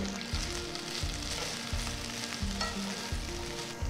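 Steady sizzling of fresh mint, coriander leaves and other herbs sautéing in hot oil in a pan for mutton biryani, with soft stirring scrapes throughout, close and continuous.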